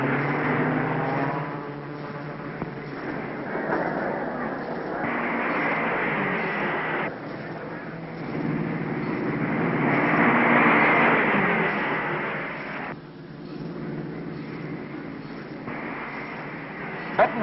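1953 Indianapolis 500 race cars racing, an old-film engine roar that swells and fades as cars pass, rising and falling in long surges.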